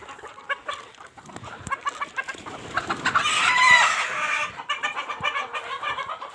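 Several poultry-farm chickens cluck and chatter nearby in irregular bursts, with a louder squawking call rising briefly in the middle.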